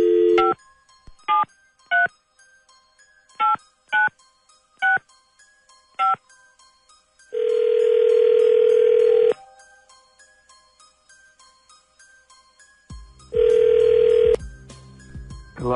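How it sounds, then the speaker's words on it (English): A telephone being dialed, with a series of short, loud touch-tone beeps followed by two long steady tones and faint ringing between them, clear and close with no talking. "Dialing at random."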